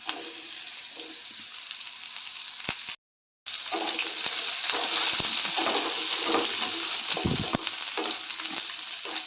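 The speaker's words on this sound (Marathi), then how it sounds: "दोडका आपण तेलामध्ये थोडंसं परतून घेऊया" Finely chopped ridge gourd frying in oil with mustard and cumin seeds, a dense, loud, steady sizzle broken by a brief dropout, with scraping stirs and occasional pops throughout.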